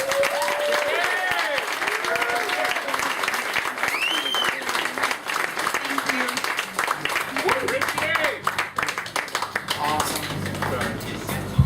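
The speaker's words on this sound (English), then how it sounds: "One more round of applause for Gabriela, please." Audience at an open mic night in Bangkok applauding steadily, a dense close wash of clapping with voices and whoops rising through it.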